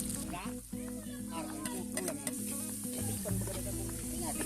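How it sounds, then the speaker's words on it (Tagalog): Chopped onion and garlic sauté in hot oil in a pan, giving a steady close sizzle with occasional stirring scrapes throughout. "para magisa muna ng sibuyas bawang"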